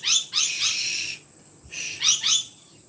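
A bird in a Brisbane garden calls in short, bright repeated chirps, a cluster at the start and two more near the end after a quiet gap, fairly close and with no voices.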